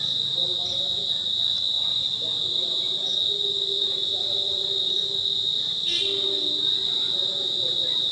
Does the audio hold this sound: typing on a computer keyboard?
no